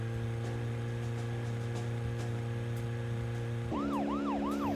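Emergency vehicle siren in the video game Deadly Premonition, a steady tone over engine hum that switches to a rapid rising-and-falling wail near the end, loud and continuous with no talk.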